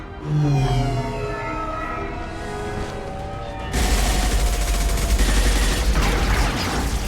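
Heavy gunfire in the sci-fi video game Mass Effect 2, a droning tonal rumble that bursts into loud, dense blasts and booms midway, with no voices over it.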